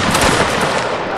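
A ripple-fire musket volley from a Napoleonic line regiment in Mount & Blade Napoleonic Wars crackles as overlapping shots run down the line in a loud, dense burst lasting about a second.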